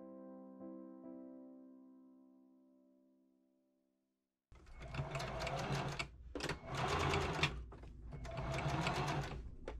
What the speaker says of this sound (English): I machine sew strips together at the selvage edge.